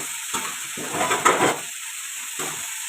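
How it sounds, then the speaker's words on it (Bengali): Potatoes frying in a pan for a potato, cauliflower and poppy-seed dish, with a steady sizzle and hiss as they are stirred, rising to a louder scraping burst midway and smaller bursts at moments; no talk. "আলুটা নাড়া হয়ে যাচ্ছে"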